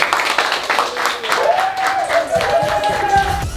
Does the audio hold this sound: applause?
yes